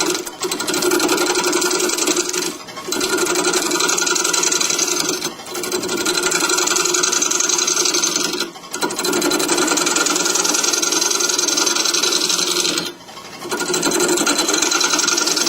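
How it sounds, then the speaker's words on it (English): Wood lathe spinning a bowl blank while a 3/8 inch bowl gouge cuts, a steady close scraping whir with brief dips where the tool lifts off, no voices. "I start the lathe at a slow speed and kind of go to see where I get. And then I'll just start in here with the bowl gouge."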